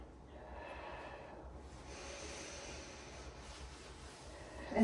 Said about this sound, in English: I'll make sure to inhale first.